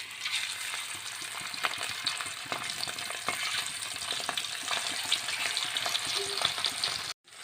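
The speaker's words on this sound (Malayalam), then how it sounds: "ചട്ടി വെച്ച് എണ്ണയൊക്കെ വെളിച്ചെണ്ണയൊക്കെ ഒഴി ചൂടാക്കിയിട്ടുണ്ട് അപ്പോൾ നമുക്കിത് കുറേശ്ശായിട്ടൊന്ന് ഫ്രൈ ചെയ്തെടുക്കാം" Prawns fry in hot coconut oil in a pan, a steady close crackling sizzle with small pops and the occasional scrape of stirring, ending in a brief cut of silence.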